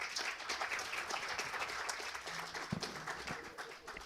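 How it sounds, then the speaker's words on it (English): Sustained applause from a conference audience thanking a technology panel, a steady wash of many hands clapping at moderate distance, even in level throughout with no voices on top. "if we could have a round of applause for them"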